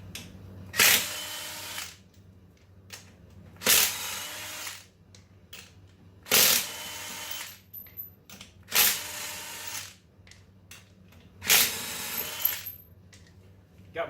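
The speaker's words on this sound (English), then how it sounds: "Got my handy dandy Harbor Freight Earthquake 20-volt lithium impact gun." A Harbor Freight Earthquake 20-volt lithium cordless impact gun works lug nuts on a RZR 570, firing five short, loud, close hammering bursts separated by quiet pauses.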